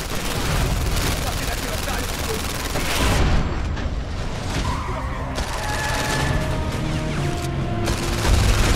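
Gunfire at ammo boxes during a VR shootout chase in The London Heist: rapid, loud shots over engine roar and screeching, with excited voices shouting and sharp bursts and impacts near the end.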